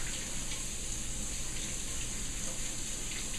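Vegetables get a quick rinse under a kitchen tap: water runs in a steady, even gush close up, with no talking over it.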